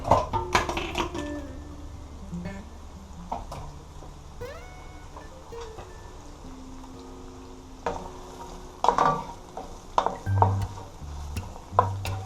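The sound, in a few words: carrots sautéing, stirred in a pot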